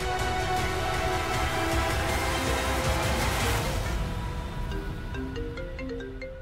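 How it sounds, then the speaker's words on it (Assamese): A mobile phone rings with a steady repeating electronic melody, continuous and fairly loud, with no talk over it and the tones thinning toward the end. "সৌৰভদাই মোলৈ ফোন কৰিছে যে মোৰটো অফ আছে, তই পাতচোন।"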